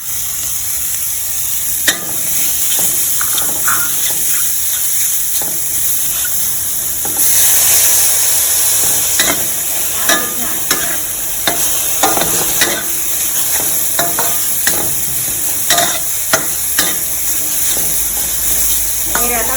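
Textured soy protein stir-fried in a pan for a vegetarian basil stir-fry, with a continuous hissing sizzle. Frequent sharp spatula scrapes and clacks come at an irregular rhythm, and a brief burst of steam rises partway through. There is no talking.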